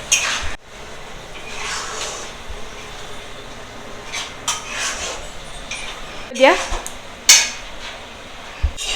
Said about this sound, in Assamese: খোৱা আঞ্জাত অকণমান লৰাই দিছোঁ আৰু